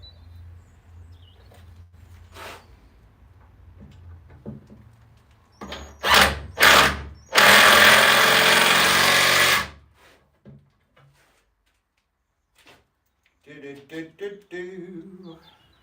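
A 12 volt cordless drill drives pocket hole screws into wood in a workshop, with two short loud bursts followed by a longer sustained whir, set apart by quieter sections of faint background noise and brief talk at the end.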